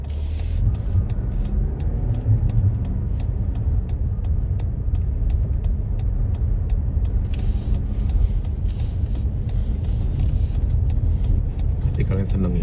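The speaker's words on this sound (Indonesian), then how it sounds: "Truk gede." A big truck drives past on a winter road, heard from inside a moving car as a low rumbling engine and road roar under steady in-car noise, rising slightly toward the end; a person talks over it.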